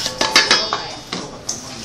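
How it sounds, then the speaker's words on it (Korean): Sifted flour being mixed into chocolate choux dough in a bowl, heard as a few sharp scraping and knocking strokes of a utensil against the bowl, close and fairly loud, with no talking. "가루, 체질한 가루를 섞어서 한 덩어리 반죽을 만들어 주시면 됩니다"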